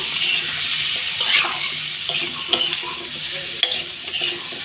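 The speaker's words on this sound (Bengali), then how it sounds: "এখন আমি একটু কষি নিচ্ছি কষিগুলো" Spices with coriander powder and taro sautéed in a pan for a Bengali curry: steady close sizzling under repeated stirring scrapes, with a couple of sharp spoon clinks and a faint watery hiss.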